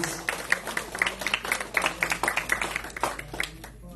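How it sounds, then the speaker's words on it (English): An audience at a Hindu Ramayan satsang and birthday gathering in Margate, Florida claps steadily for several seconds, a dense, fairly loud patter of many hands fading slightly at the end. "let's show appreciation by clapping our hands"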